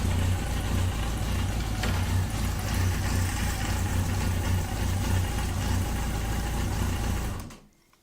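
A Yamaha XJ 900 F motorcycle engine idles on its freshly synchronised carburettors, a steady close, even hum that runs without a break and then cuts off abruptly at the end.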